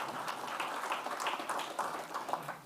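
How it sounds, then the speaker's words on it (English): Applause from an audience honouring an osteopathic physician from Brevard County, a broad steady patter of many hands clapping at moderate distance, continuous and without voices. "Let's give him a round of applause."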